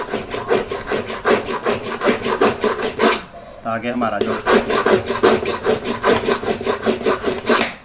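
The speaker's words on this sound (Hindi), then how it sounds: "इसके हम अंदर आरी के ब्लेड से इसको कट जो है वो दोबारा से दे देते हैं" Hacksaw blade scraping back and forth to recut a worn screw slot on a National electric iron, with steady rhythmic strokes that pause briefly in the middle before resuming, loud and close, with a few spoken words.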